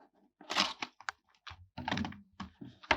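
A box for an S-link 20000 mAh fast-charging powerbank is opened up close, with a run of sharp cardboard cracks, scrapes and crinkles in short bursts separated by quiet gaps.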